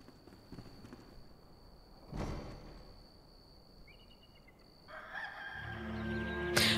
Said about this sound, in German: Wessen Hahn kräht da eigentlich?